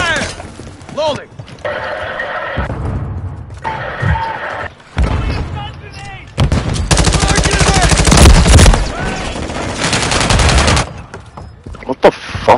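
Video game gunfire crackles in loud, rapid bursts of shots and machine-gun volleys, broken by short pauses, with voices shouting intermittently among the blasts.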